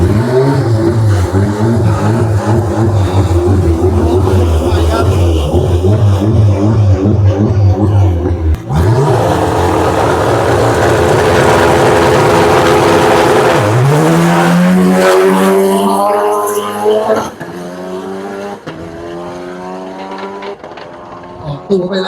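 The first Thai supercar on a time attack race track at the Songkhla Grand Prix, its engine loud and close as it revs and accelerates through gear changes, with a brief tire squeal.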